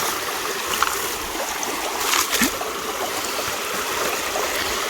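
Water rushes steadily through a guitar sluice used for gold panning, a constant broadband wash of flowing water with a few small splashes, close by and with no voices.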